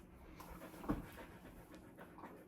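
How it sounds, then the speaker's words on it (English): A dog pants quickly and steadily close by, with a louder breathy burst partway through. "My dog is breathing very obnoxiously"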